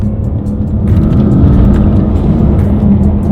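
Tuned Audi S8 with 700+ horsepower and 22-inch wheels accelerating hard, a deep, loud engine roar that swells and holds steady as the car pulls.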